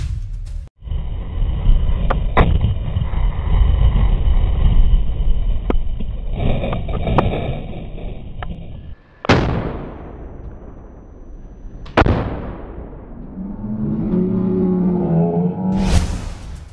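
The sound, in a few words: RPG launcher fired at a jeep, explosions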